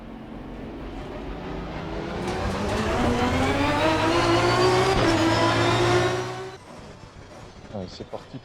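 Race car engine in the sim racing game Assetto Corsa Competizione, revving up through rising gears over several seconds, loud and sustained, then easing off and dropping away near the end.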